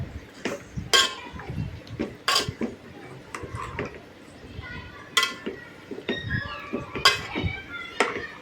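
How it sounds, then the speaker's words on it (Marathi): A spoon scrapes and clinks against a pot while chicken is stirred with salt, turmeric and onion, making irregular sharp metallic taps and knocks at close range, with a voice talking between them. "आता चांगलं हलवून घेतो म्हणजे व्यवस्थित ते मिक्स झालं पाहिजे"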